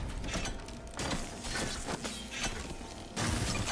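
Clockwork Soldier in Dishonored 2, a mechanical enemy that creaks and ratchets as it moves, heard as dense clanking and grinding parts in a steady, loud texture with short bursts and no speech.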